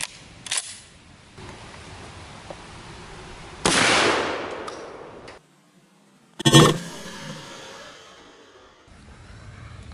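A 12 gauge shotgun loaded with 7.5 shot fires through a door: two loud, sharp single blasts several seconds apart, each with a short ringing decay, separated by quieter stretches of handling noise.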